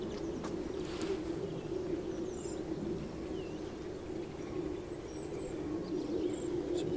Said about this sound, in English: Blue tits in the background there.